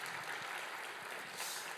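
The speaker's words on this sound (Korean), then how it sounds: "박수로 한번 이 귀한 사역을 격려합시다" A church congregation at a Sunday school teachers' dedication service claps in a soft, continuous patter heard from a distance, with no voices over it.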